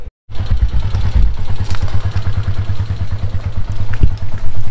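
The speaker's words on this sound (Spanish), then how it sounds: "el señor muy amable dijo que nos prestaba una moto, vamos a andar en esa por ahora." Small red motorcycle being ridden along a road in Caleta de Campos, Michoacán, its engine putting out a close, loud, rapid steady putter with some clatter after a brief silent start.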